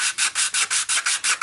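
Sandpaper rubs against the edge of a 3D printed part in seven quick, even back-and-forth strokes, close and crisp with short gaps between passes.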